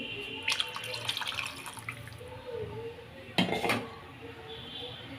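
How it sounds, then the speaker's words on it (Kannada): Two glasses of water poured into village-style mutton sambar, with splashing liquid and clinks of vessels and utensils, including a sharp metallic clatter partway through. "ಎರಡು ಲೋಟ ನೀರು ಹಾಕ್ತಾ ಇದ್ದೀವಿ"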